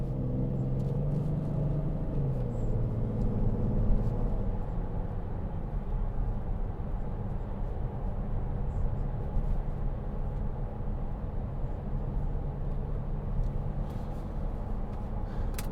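An Audi Q7 6.0 TDI V12 Tiptronic Quattro accelerates, heard from inside the cabin as a low, steady engine rumble that swells slightly early on before settling into a continuous muffled drone.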